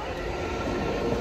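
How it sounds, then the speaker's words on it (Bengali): A train passes on a rail line near Khirai, heard as a steady, close rumble of rolling wheels and carriages that fills the whole short stretch with no voices. "এই যে ট্রেনটা আসছিল চলেই গেল।"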